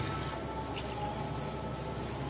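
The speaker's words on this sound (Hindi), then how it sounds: "अब हम इसके अंदर पानी ऐड करेंगे ताकि हमारा मसाला नीचे लगे ना" Water, three glasses in all, is poured into a pot of browned nihari masala, making a steady wet splashing and sizzling hiss that stays even and close throughout, with no talk.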